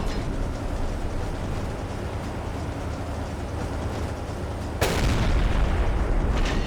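Anti-aircraft guns fire on a submarine in the Silent Hunter 3 naval game: a steady low rumble, then a sudden loud blast at about five seconds, followed by heavier roaring and a fainter second burst near the end.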